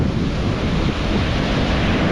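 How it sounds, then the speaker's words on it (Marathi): Surf breaks along the clean Blue Flag beach at Puri in a continuous rolling roar of white waves, with wind buffeting the microphone throughout. "खूप पांढऱ्या शुभ्र असे लाटा"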